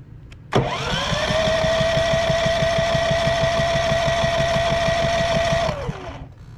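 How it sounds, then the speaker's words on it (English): A Predator 5000 generator running on propane cranks and catches, then holds a loud, steady engine drone with a regular low chug for about five seconds before it winds down. "go ahead and hit the start button"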